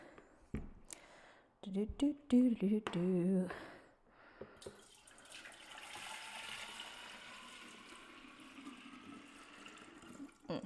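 Water pours into a traditional mead batch that still holds some honey, a steady broad splashing stream running for several seconds after brief talk and handling clatter at the start.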